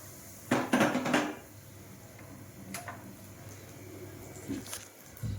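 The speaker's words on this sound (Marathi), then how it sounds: "चमच्याने चांगलं मिक्स करून घ्यायचं याला" A spoon scraping and clinking in a bowl while mixing khari patties dough with salt, ajwain and ghee, a few close, brief clattering bursts followed by quieter scraping.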